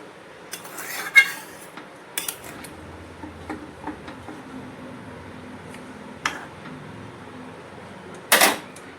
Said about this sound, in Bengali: গরম মশলাটা দিয়ে দিলাম। নেড়ে নিচ্ছি একটু।